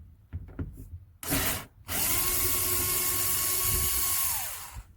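A power drill whines steadily as it backs screws out of a fiberglass van shell side window, with a few short bursts first and then a long sustained run up close, no talking.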